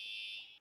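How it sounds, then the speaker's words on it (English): A fire alarm sounds a single loud, steady high-pitched electronic tone that holds for about half a second and then cuts off abruptly. "Fire alarm."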